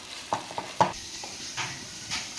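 Mutton liver fry with curry leaves sizzling in a pan as a spoon stirs it, a few sharp scraping clinks near the start over a soft continuous frying hiss.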